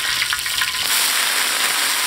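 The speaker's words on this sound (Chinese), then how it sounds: "烧油，先炝炒一下配菜，干海椒" Dried chili peppers and vegetables stir-fry in hot oil, giving a loud, close, continuous sizzle with faint stirring scrapes and no talking.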